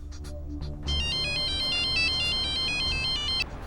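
A telephone ringtone plays a repeating electronic melody for most of the clip, steady and fairly loud, in a scene from the Indian TV drama Jamai Raja, with low background hum and no talking.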